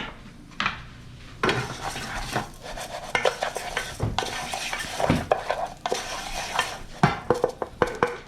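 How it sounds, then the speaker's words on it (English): A utensil stirs and scrapes rice toasting in a pan with onion for Mexican rice, giving irregular clinks and scrapes over a faint sizzle, close and fairly quiet, with no talking. "Let's mix up that rice a little bit."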